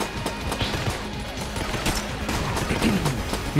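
Rapid, dense gunfire in Enter the Gungeon during the Bullet King boss fight, a continuous clatter of overlapping shots close and loud for several seconds.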